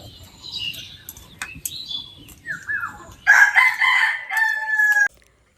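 A rooster crows loudly and close by in a domestic yard, a long strained call near the end, preceded by smaller birds chirping and brief clucks.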